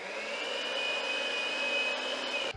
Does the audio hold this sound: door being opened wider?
no